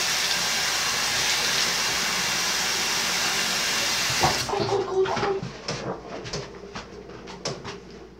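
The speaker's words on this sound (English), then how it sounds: "Next thing I would do is that I would wash my face with cold water." Cold tap water running for face washing: a steady rushing stream for about four seconds, then it cuts off into scattered close splashes and drips.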